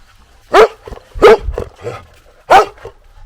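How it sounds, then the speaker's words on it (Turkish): A dog barks three times in short, sharp bursts with pauses between, fairly close, with softer whimpering sounds in between. "Yattığı yerden havlayan Ulvi."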